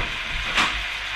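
Homemade longganisa sausage being stirred as it fries in oil, giving a steady close sizzling hiss with a brief louder surge midway.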